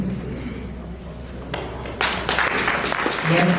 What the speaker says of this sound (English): Yes, clap for mine.